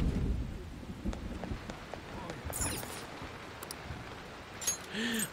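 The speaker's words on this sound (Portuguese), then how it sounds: "Tá chovendo." Steady rain falls in the video game Persona 5, a soft continuous patter with a low rumble, while someone talks over it.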